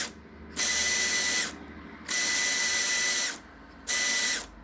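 A small unoiled electric motor with armature and pinion gear runs in three bursts of a loud, steady, buzzing whir with a rattly gear edge, separated by short quiet gaps.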